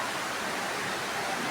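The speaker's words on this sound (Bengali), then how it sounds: "মুষলধারে বৃষ্টি হচ্ছে।" Heavy monsoon rain in Dhaka pours in a thick, continuous rushing hiss. The downpour holds steady and close throughout.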